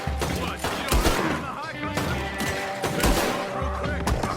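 Gunfire in Red Dead Redemption 2, a rapid fusillade of overlapping shots and booms, loud and close, crackling continuously with echoing thuds and traces of voices in between.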